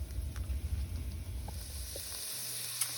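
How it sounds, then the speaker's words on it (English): An onion sautés in olive oil in a pan, giving a soft, steady sizzle and hiss close by, with a few faint clicks and a low rumble early on. "sauteing an onion here with some olive oil"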